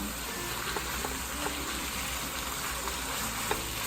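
Bulgogi beef and mushrooms fry in a hot pan with a steady, close sizzle and occasional crackles and soft stirring scrapes, no voices.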